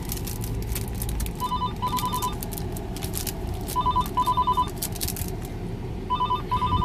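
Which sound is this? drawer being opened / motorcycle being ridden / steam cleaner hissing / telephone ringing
telephone ringing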